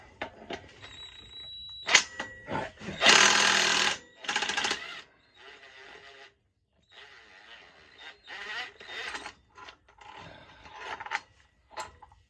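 An impact wrench with an impact socket removes the primary clutch bolt on a Can-Am, sounding as loud short rattling bursts separated by pauses, with quieter clanks between them, up close.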